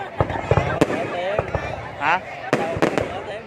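New Year's Eve fireworks over Ho Chi Minh City crack and pop in sharp bursts, some near and loud, with a whistling rise, while people nearby talk over the show.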